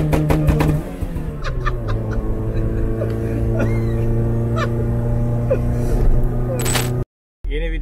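A Lada 2104 with a swapped engine revs in bursts, its note rising and falling near the microphone, while people talk over it before a brief drop to silence at the end.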